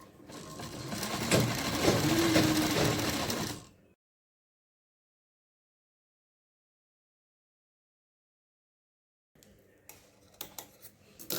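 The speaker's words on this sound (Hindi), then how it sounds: "पूरे राउंड में सिलाई लगा लेंगे" A sewing machine stitches fabric around a kurti neckline in a continuous whirring run of about four seconds, then stops into silence before a few quiet clicks and handling taps.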